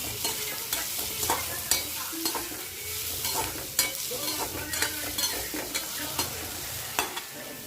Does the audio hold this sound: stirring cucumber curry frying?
yes